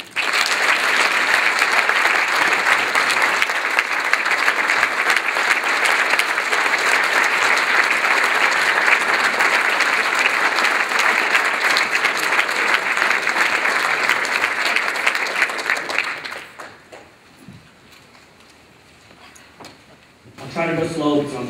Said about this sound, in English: Please give us the opportunity to recognize and applaud the great work of Priten Shah